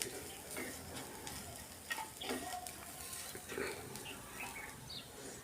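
Spiced potato paratha filling with coriander powder, kasuri methi and salt being stirred in a pan, giving soft scraping and light sizzling with scattered small clicks throughout, close and fairly quiet, no voices.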